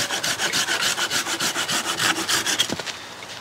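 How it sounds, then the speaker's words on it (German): A hand saw rasps rapidly back and forth through a wooden stick in a steady rhythm of short strokes, close up, ending with a few slower cuts. "Säge ich mal hier den Knick raus."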